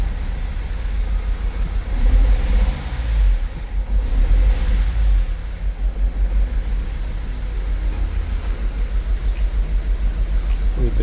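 A Mercedes Sprinter van engine idles with a steady low rumble and a faint whir from the turbo; a cylinder 2 injector is faulty. The running stays continuous throughout, with a voice briefly heard over it.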